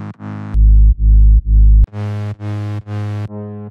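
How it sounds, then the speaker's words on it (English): Fat, gritty bass synth presets in FL Studio, a series of loud distorted stabs: a few short notes, three long deep sustained tones, then several bright buzzy hits, close and dry with no talking. "I searched for a couple very fat and gritty presets."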